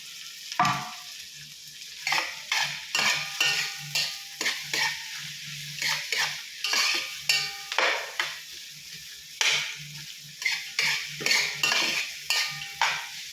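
Lapu-lapu fish frying in oil in a pan while a utensil scrapes and stirs it, with loud rhythmic scraping strokes over a constant sizzle, close up and without talking.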